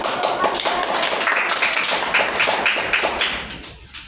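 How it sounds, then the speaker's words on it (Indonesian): Fourth-grade schoolchildren clapping their hands in a classroom, a steady spatter of many small claps that fades out toward the end, with no talking over it. "Beri tepuk tangan"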